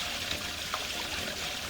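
Water runs steadily through a sewer pipe near the city main connection, a faint continuous trickling and pouring with no voices.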